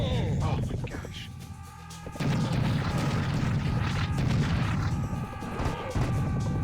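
Heavy booming shotgun blasts and crashing impacts from Serious Sam: The First Encounter, played in VR, fill the scene in repeated bursts over a thick wash of game noise, with a voice talking underneath.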